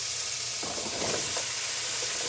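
Vegetables dropped into a pan of simmering coconut milk with shrimp, green beans and squash set off a steady close sizzle with stirring clatter, rising slightly after the first half-second and holding through the end with no talk.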